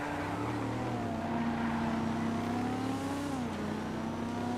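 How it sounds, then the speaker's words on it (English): Rancher stock car engine in the video game GTA FiveM, a steady loud drone with the pitch rising and dipping slightly as it races, with no other sounds over it. "Alright, the Rancher stock car."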